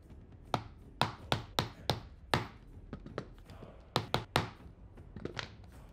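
Leather being cut into pieces for a handmade book cover, heard as a series of sharp, close chopping thunks in irregular bursts, about a dozen strikes over several seconds with quiet pauses between.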